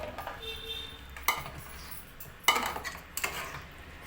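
A metal ladle and pot clink as cooked moong dal with ridge gourd is moved into a serving bowl, with a few sharp clinks and soft scraping and stirring in between.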